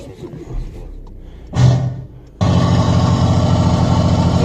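A diesel car engine cranks briefly, then catches and settles into a steady, loud, rough idle close by, after a stretch of low rumbling.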